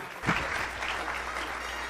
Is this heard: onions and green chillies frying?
no